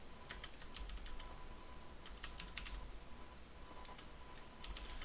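Rapid, steady typing on a computer keyboard, with clusters of crisp key clicks separated by short pauses while C++ code is entered, heard alone against a quiet background hum.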